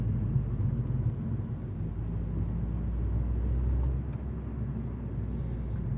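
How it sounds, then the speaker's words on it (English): Steady low road rumble from a car moving through traffic, continuous and fairly loud for the whole stretch with no voices. "I'm in some traffic right now"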